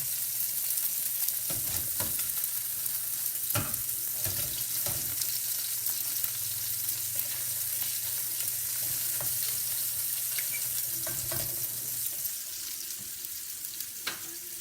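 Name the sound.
pork chops browning in a frying pan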